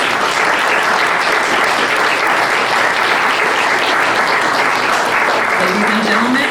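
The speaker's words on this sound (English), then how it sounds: "Please give them all a round of applause." A steady, loud round of audience applause welcomes storytellers at a talk event, sustained clapping throughout with a voice faintly under it near the end.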